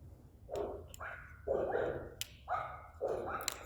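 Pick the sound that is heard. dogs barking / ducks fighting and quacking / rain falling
dogs barking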